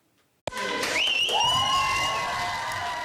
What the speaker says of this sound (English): That applause was for Craig the custodian at an elementary school in Moore, Oklahoma.